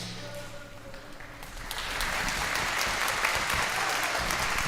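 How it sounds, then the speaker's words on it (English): Applause rises from a spectators' crowd at a para shooting world championship 25m pistol final, starting faint and swelling into steady, moderately loud clapping that carries on to the end. "Please give them lots of encouragement and a round of applause."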